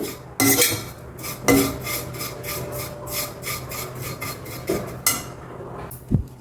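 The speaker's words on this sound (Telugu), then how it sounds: "ఒక రెండు నిమిషాలు ఇలా కలుపుకోండి బాగా అందులో మిక్స్ అయ్యేటట్టుగా" A spoon scrapes rhythmically against a pan while stirring fried vermicelli (semiya) for a sweet dish, giving repeated close, rasping strokes with a few louder knocks.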